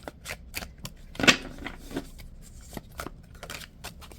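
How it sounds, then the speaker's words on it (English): Rapid papery riffles and soft flicks of a large deck of tarot cards being shuffled by hand, close up, with a louder burst near the middle and quieter shuffling around it. "This is a large deck, y'all, so it's hard for me to shuffle it in my little hands."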